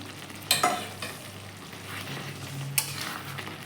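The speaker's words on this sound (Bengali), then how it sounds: "ধনে পাতা দিয়ে এবার নাড়াচাড়া করে নেব" Coriander leaves stirred into a prawn curry in a pan, with a couple of sharp utensil scrapes against the pan over a soft, steady simmering sizzle.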